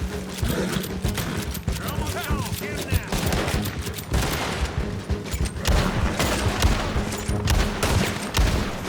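Rapid bursts of gunfire in Red Dead Online mix with horse hoofbeats and occasional whinnies, a busy, steady barrage of shots while a voice talks over the action.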